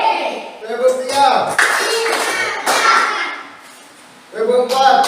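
A group of children claps out counted rhythms in a classroom clapping game, with sharp bursts of hand claps between stretches of talk from an adult leading them.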